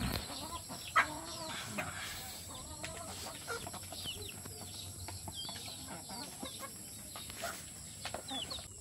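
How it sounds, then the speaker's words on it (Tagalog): Backyard chickens in rural Laguna province cluck softly and peck as they are hand-fed, a brief louder note near the start, with a low steady farmyard hum underneath. "Alaga ng manok."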